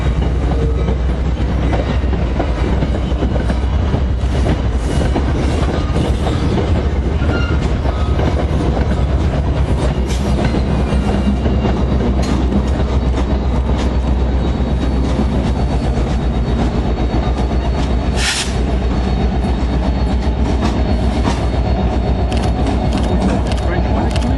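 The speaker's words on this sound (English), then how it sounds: "it's a train with that new engine" A Metro-North Port Jervis Line commuter train passes close by with a loud, continuous roar and rhythmic clickety-clack of wheels, while people talk over it.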